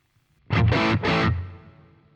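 Electric guitar with a high gain tone through a Boss GT-1000 Core and hall reverb plays two loud distorted chord stabs, the second ringing out into a fading reverb tail.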